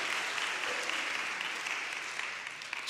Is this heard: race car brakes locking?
no